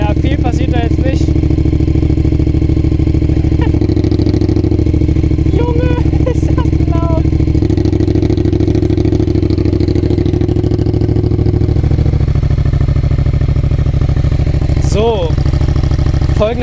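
A Yamaha XSR 700 motorcycle warming up with an aftermarket exhaust loosely fitted, a loud steady idling engine rumble running throughout, with someone speaking German over it and a few brief higher whines near the end.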